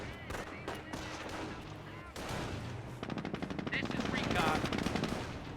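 Rapid bursts of rifle squad gunfire in a Company of Heroes battle against Panzer Grenadiers, sustained automatic fire with layered shots and explosions, loud and busy throughout with a voice faintly underneath.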